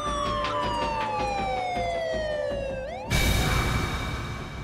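An ambulance siren wails close by, its pitch gliding steadily downward before cutting to a louder, harsher rushing sound as it passes; no talking.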